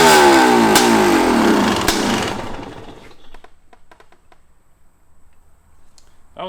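A 1985 Honda CR500 dirt bike, worn and running rough, briefly fires and buzzes loudly for about two seconds, then dies away into faint sputtering and ticking.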